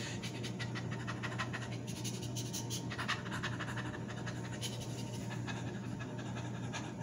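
A person imitates a small dog's breathing with rapid, shallow panting, quick rhythmic huffs repeated steadily and heard up close and quiet.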